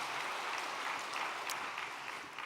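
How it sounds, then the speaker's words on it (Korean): An audience claps together in steady, dense applause that holds at an even level for a couple of seconds with no voices over it. "박수를 한번 부탁드리겠습니다"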